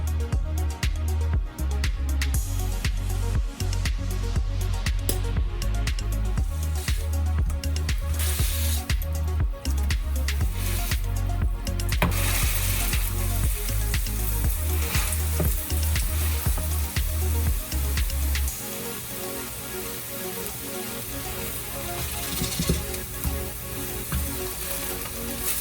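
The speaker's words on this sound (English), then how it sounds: "It's ready, let's fry them up." Sweet potato pancakes fry in plenty of oil in a pan over medium-high heat, giving a steady, close sizzle with crackling spatter throughout. The sizzle softens and thins in the later part.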